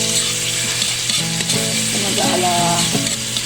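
Onion and garlic sizzle loudly in hot oil for corned beef with broccoli, a steady close hiss with some stirring and a faint tonal hum behind it, no talking.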